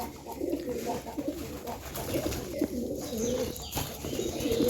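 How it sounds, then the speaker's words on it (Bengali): Fantail pigeons coo in repeated soft, throaty phrases close by, with several birds overlapping in a low rolling rhythm and faint chirps in the background. "সবগুলো পায়রা চলে এসছে"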